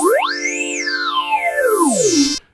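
An Arturia MiniFreak synth note passes through its phasing filter with feedback turned up, giving a resonant, whistling sweep that glides up, arcs over and slides down in a dramatic swoop, loud and alone before stopping sharply.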